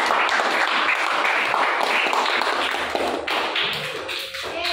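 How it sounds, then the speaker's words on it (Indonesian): A classroom of students applauding a group of classmates, loud close clapping with many overlapping hands and a steady patter, running continuously before tapering slightly at the end. "Bagus, tepuk tangan dulu untuk kelompok."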